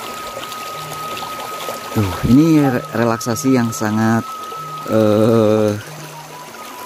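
A babbling river stream in a rural village among rice fields rushes as a steady hiss throughout, while someone talks over it in short phrases.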